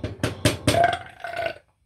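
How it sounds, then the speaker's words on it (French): A man lets out a long, gurgling burp in a home kitchen while making a meringue dessert, starting with a few choppy bursts and rolling into a drawn-out croak, close and loud, with no other speech. "Pardon, j'ai roté."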